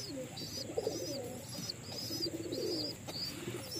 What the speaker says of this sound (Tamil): அப்பா புறா அம்மா புறா ரெண்டு பேருமே வந்து பார்த்திங்கன்னா ரெண்டு குஞ்சுகளுக்கு மாற்றி மாற்றி உணவு அழிச்சிக்கிட்டு இருக்காங்க